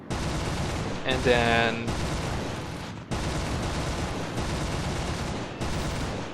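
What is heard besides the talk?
FW190 A-4 plane guns firing in video game War Thunder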